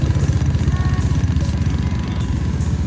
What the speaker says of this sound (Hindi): बड़ा चलाता मोटरसाइकिल।